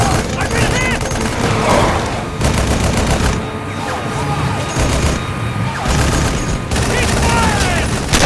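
Sustained gunfire and machine-gun bursts in the Halo Wars video game, loud and dense, coming in rapid volleys with short gaps, mixed with shouted voices and battle noise.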